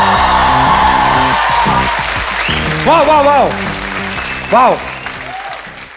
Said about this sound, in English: me a round of applause to start the show?